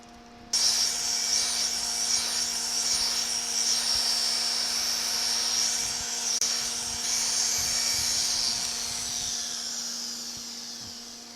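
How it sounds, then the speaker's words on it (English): A power tool polishes the bullnose edge of a tile with a 3000-grit pad, giving a steady, fairly quiet whirring hum with a high whine that runs for about ten seconds and fades slightly at the end, with no voices. "And now we successfully polished the edge of the material."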